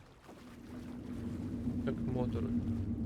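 Boat motors in the video game Alan Wake 2 hum as a steady, moderately loud low drone throughout, with brief voice-like sounds rising over it partway through.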